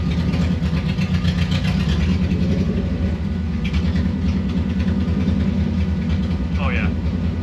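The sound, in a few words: 1974 VW Bus with Subaru engine slowly moving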